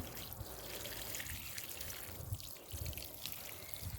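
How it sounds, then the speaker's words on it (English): Water poured onto the roots of pepper plants in a vegetable garden, a soft, steady trickle and splash heard close up and faint, with no talking. "we water the peppers also down by the roots"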